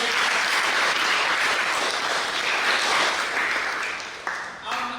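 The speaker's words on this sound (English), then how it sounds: "Big round of applause for this." A crowd at a birthday celebration gives a big round of applause, a loud continuous wash of clapping with some voices mixed in, tapering slightly just before the end.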